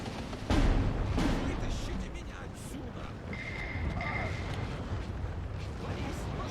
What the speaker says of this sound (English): I'll let my mortars hit the mark.